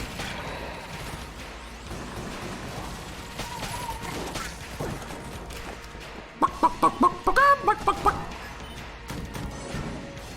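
A cartoonish chicken clucks in the dungeon-crawler game Enter the Gungeon, a quick run of sharp repeated clucks over busy game effects and gunfire.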